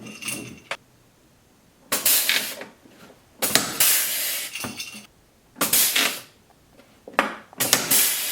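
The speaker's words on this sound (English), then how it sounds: "these pneumatic rivet guns are really slick. Put those heavier duty rivets in without any issues" A pneumatic rivet gun sets heavier-duty rivets into a snow shovel in loud, close bursts of hissing air and clatter, roughly five separate blasts with short quiet gaps between them.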